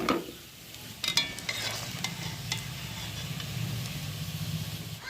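Oil sizzles steadily in a pan with a low background hum, while a few faint scrapes and clicks of a utensil sound near the start.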